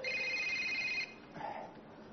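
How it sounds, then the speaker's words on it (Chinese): A telephone rings indoors at a comedy sketch performance, a steady electronic ringing for about a second before it stops, leaving quieter room sound and a faint murmur. "哎，你电话"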